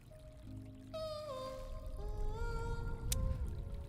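A magical water flower in the game GRIS trickles and pours water over soft sustained musical tones, with a gentle continuous flow that swells slightly toward the end.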